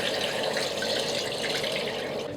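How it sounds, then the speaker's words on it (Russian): Clean cold water pours steadily into a pot of meat for Uzbek shurpa broth, a continuous close splashing rush with no talking. "И заливаю опять же чистой водой"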